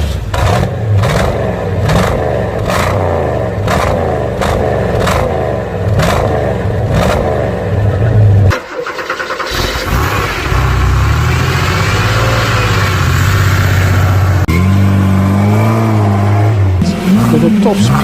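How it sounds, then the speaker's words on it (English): A car's engine revs and roars through its exhaust, surging up and down in repeated bursts before settling into a sustained loud drone, with someone talking over parts of it. "Or is it about exhaust notes?"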